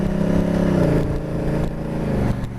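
A Honda CRF1000 Africa Twin DCT adventure motorcycle pulls away, its engine note steady and close, holding a low throbbing drone with a slight pitch drop partway through, no talk over it.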